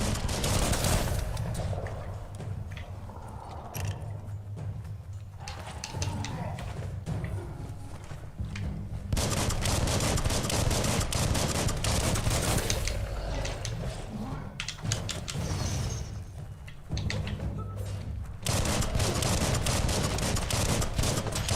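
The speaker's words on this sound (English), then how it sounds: "Bullets everywhere." Gunfire fills a fight in the game Biomutant, with dense, repeated bursts of shots coming in waves over other busy in-game noise for the whole stretch.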